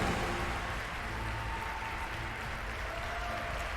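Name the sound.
crowd applauding at esports match (TI10)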